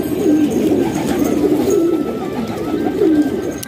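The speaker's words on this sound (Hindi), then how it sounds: "ये देखें दोस्तों कुछ करबलाई कबूतर भी हैं मेरे पास दोस्तों" Several Karbalai pigeons coo in low, rolling, repeated phrases close by, overlapping steadily with a faint background hum.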